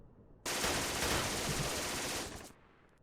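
An MG 42 machine gun fires in a World War II tactical strategy game, a loud continuous burst of about two seconds that cuts off and trails away, with no voices.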